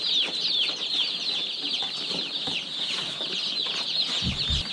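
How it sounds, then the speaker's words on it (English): Hundreds of newly hatched chicks shipped by mail peep densely from cardboard shipping boxes, a continuous high chorus of overlapping chirps with a brief low thump near the end. "Chicks come in boxes in the mail."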